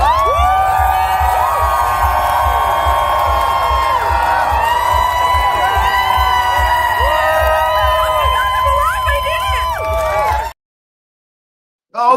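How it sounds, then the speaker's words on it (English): A crowd roars with cheers and whoops during a live morning show. The sound is a loud, continuous wall of excited voices that runs for about ten seconds and then cuts off abruptly into silence. "We're erupting in applause."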